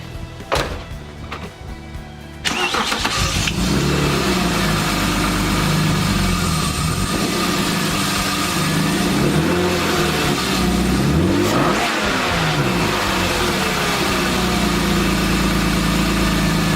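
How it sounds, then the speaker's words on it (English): A BMW E36 M3 cranking over and firing after a camshaft position sensor replacement, a brief starter whir followed by a loud catch, then a steady close idle with a few blips of revving. "One way to tell if you did it right is, does the car start? So let's see if it starts."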